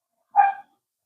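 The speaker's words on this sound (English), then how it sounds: "I also shut the door so the dog doesn't bark" A dog gives a single short bark indoors, brief and fairly close, standing alone against silence.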